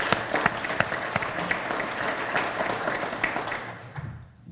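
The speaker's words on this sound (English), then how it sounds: "Let's give him a round of applause" Sustained applause from the audience at a community workforce development and education forum, many hands clapping in a dense, steady patter that trails off and fades out near the end.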